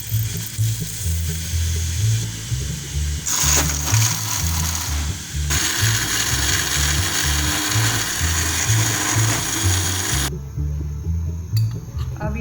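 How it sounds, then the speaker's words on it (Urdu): Electric spice grinder whirring loudly and steadily at close range while grinding whole spices, with a strong motor drone and a rattling churn of seeds in the jar, speeding up and easing back through its run; no one speaks. "اب یہ سارے مسالے گرائنڈ کر لوں گی میں۔"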